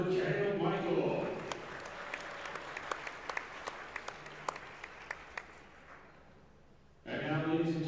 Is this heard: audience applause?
yes